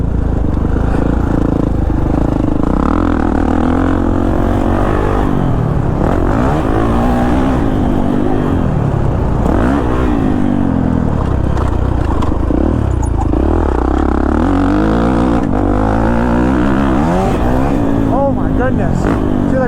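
A Kawasaki KX450 dirt bike engine revs while being ridden, a loud and close motor that rises and falls in repeated surges, steady throughout with wind and clatter mixed in.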